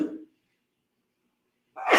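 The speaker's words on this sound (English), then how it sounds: "I'm going to sneeze because the lights." A single person sneezes indoors, a sharp close burst following a brief intake of breath and a pause of silence.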